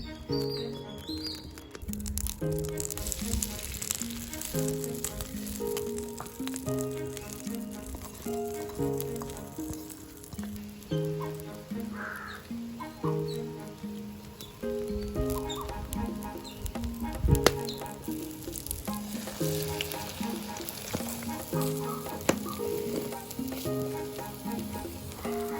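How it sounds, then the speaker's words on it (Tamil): Eggs frying in hot oil in a pan for a Jaffna-style egg curry, giving a steady close sizzle with spattering crackles throughout, while music plays underneath. "முதல்ல முட்டையை பொரிச்சு எடுத்துக்கொள்ளுவோம்."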